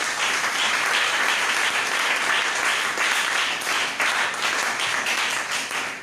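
A congregation at a church seminar on divine healing breaks into loud, sustained applause, a thick wash of many hands clapping close and full, swelling slightly in waves without any voice on top.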